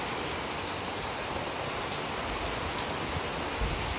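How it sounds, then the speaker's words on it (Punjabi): Heavy rain drums loudly and evenly on a shed roof, a dense, constant roar of impacts with no voices. "ਮੀਂਹ ਆ ਗਿਆ ਆਵਾਜ਼ ਹੀ ਆ ਰਹੀ ਹੋਣੀ ਹੈ ਤੁਹਾਨੂੰ ਬਹੁਤ ਜ਼ਿਆਦਾ ਉਹ ਸ਼ੈੱਡ ਤੇ ਜਦੋਂ ਪੈਂਦਾ ਨਾ ਬਹੁਤ ਆਵਾਜ਼ ਆਉਂਦੀ ਹੈ"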